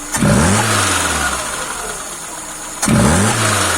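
The car engine, fitted with a fully rebuilt Solex 21051 carburetor, idles loudly close by and is revved twice in quick blips that settle back to a steady, even idle.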